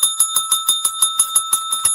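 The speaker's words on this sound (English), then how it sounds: "I got my bell." A hand bell rings rapidly and loudly, about ten evenly spaced bright dings in quick succession with no voices.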